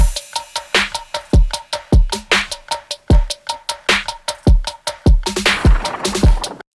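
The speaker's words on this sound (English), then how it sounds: "taking a listen to all of these drums in solo, running through these two series of auxes sounds like this." Soloed drum loop run through two chained aux effect buses in a hip-hop mix session: a steady, punchy pattern of booming kicks, sharp snares and bright hats, loud and close with no voices.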